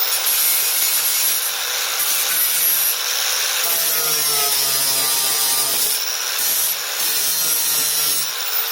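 Flap disc grinding down rough cuts on a racecar's metalwork, a steady close abrasive rasping hiss that runs continuously with slight pressure swells throughout.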